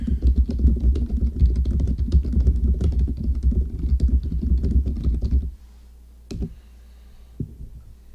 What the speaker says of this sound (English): You can hear my keyboard slamming.